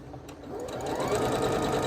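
A sewing machine runs steadily as it stitches a spring flags quilt, giving a continuous close whirring hum with a rapid needle rhythm that stays even and gently builds in loudness.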